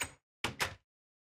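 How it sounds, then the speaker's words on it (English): Wooden trapdoors placed in Minecraft beside a villager pod: three short, sharp wooden thunks, one alone and then a quick pair, each followed by silence, close and clear with no voices. "Next, you can take your trap doors and place them on either side of the villager pod."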